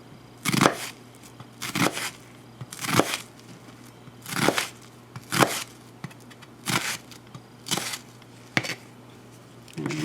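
A knife cuts through an onion on a cutting board, root end left intact, for classic potato salad: about nine sharp, crisp slicing strokes at a steady rhythm, close and clear with no talking.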